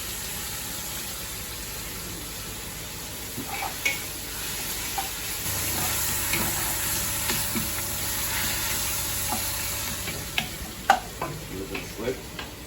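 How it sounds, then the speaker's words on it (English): Chopped onions and a cinnamon stick sizzle steadily in oil in a pan for beef moussaka, a soft continuous crackle with occasional stirring clicks and utensil taps. "The onions are started sizzling."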